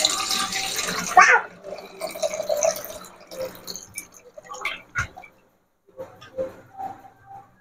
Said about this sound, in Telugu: ఇలా 1-2 సార్లు వాష్ చేసుకోవాలి శుభ్రంగా చికెన్ ని.